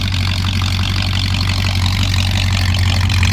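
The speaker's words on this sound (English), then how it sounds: "Go ahead and walk around so you can hear the tailpipes." A 1964 Chevrolet Impala with a 4-speed idles steadily through its tailpipes, a loud, close, continuous low engine rumble with no talk.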